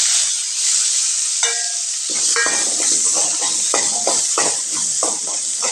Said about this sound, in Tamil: கத்திரிக்காயை எடுத்துகிட்டு அதே எண்ணெயிலேயே சின்ன வெங்காயம் வதக்கி எடுத்துக்கலாங்க.